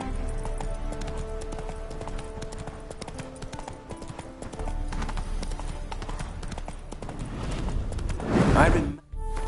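Geralt's horse Roach in The Witcher 3 clops along in steady hoofbeats on the ground, a continuous rhythmic trot under ambient game sound, ending with a loud whinny-like burst near the end.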